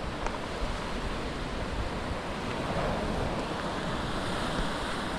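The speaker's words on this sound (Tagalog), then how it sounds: "Kaya lang sobrang lakas po ng hangin." Strong wind buffets the coast at Pagbalete Island, producing a constant loud rushing roar like surf, with gusty swells and no voices.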